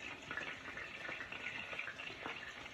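Onions frying in hot oil for a koi fish and spinach dish give a steady, dense sizzle and crackle, continuous and close, with no voices.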